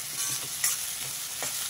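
Ginger-garlic paste fries in a hot pan with a steady sizzle, and a spoon scrapes and stirs it in several soft strokes. No voices are heard.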